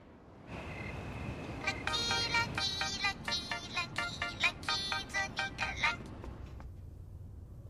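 A phone ringtone plays a bright, repeating electronic melody of rapid pulsing notes, close and clear, rising to steady rhythmic bursts for several seconds before cutting off.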